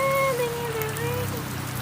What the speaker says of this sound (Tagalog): Standing in the rain.